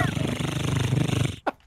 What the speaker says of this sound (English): it's my neighbor's mowing his lawn